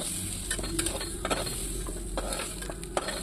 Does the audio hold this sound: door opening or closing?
no